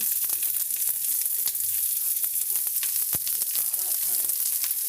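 Onions sauteing in a pan for homemade cheeseburgers, a steady bright sizzle with occasional pops and utensil clicks, close and continuous.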